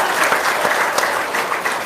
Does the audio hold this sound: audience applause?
yes